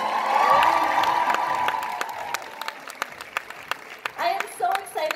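An audience applauds at a leadership talk, clapping loud at first and then fading over a few seconds, giving way to scattered claps and some brief cheering or whoops near the end.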